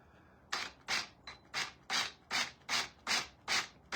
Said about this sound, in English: when I drill through this,